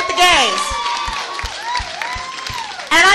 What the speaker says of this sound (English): Give them a round of applause and support the gays.